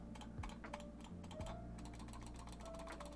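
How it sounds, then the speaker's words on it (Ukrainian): Keys on a budget Shogo 63W gaming keyboard are pressed in quick irregular bursts, each stroke giving a close, light rattling clack, soft and dry with no talking. "дребіжання кнопок є, чуєте?"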